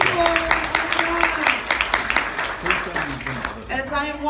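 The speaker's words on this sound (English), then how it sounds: "Round of applause for our first time people." Crowd at a DragonCon 2016 convention panel clapping for first-time attendees, a fairly close burst of claps mixed with voices and whoops that thins out near the end as a voice takes over.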